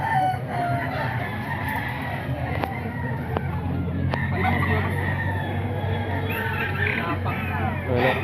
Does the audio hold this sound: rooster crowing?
yes